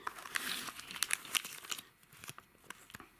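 Crinkly plastic packaging being opened and handled on a boxed Tomica Toyota Auto Body COMS toy car, close and fairly quiet, with a run of sharp crackles and tearing rustles that thin out into scattered crinkles.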